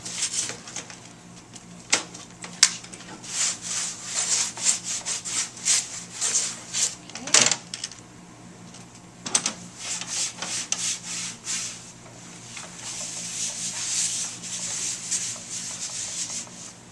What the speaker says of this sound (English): we're going to pull open the drawers, and we're going to pull the things off the shelves and clean those real well